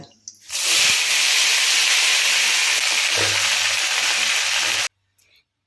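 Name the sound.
cut eggplant added to hot oil with mustard seeds, sizzling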